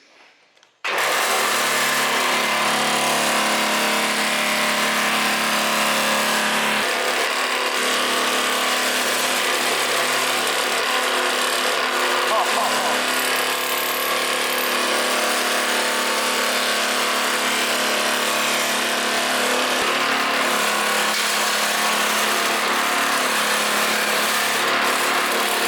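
A nibbler machine punches its way around a circle in aluminium sheet for a signpost, making a loud, continuous grinding chatter that starts abruptly and runs steadily without pause.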